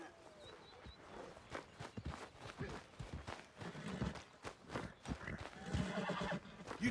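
A horse in Red Dead Redemption 2 clops along in hoof steps and gives a whinny, the sounds fairly faint and uneven across the stretch.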